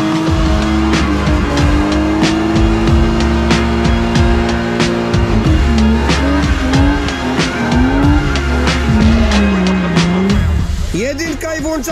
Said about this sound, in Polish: Jedynka i włączamy się do ruchu.